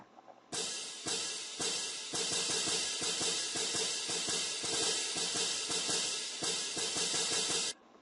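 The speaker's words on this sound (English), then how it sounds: "These are cymbals." Large hand-held metal cymbals with straps crash together loudly and shimmer in a sustained, bright wash. The ringing lasts several seconds with repeated strikes and no talking.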